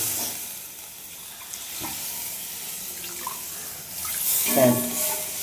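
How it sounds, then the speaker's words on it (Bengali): Water poured into a cooking pot while making a prawn kosha curry, a steady splashing rush that runs close and continuous throughout with a slight lift near the end. "এবার আমি পরিমাণ মতো জল দেবো"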